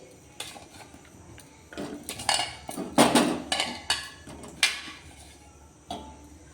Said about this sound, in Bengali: প্রেসার রেডি করে রেখেছি, এর মধ্যে এঁচড় আর আলু সবটাই দিয়ে দিচ্ছি।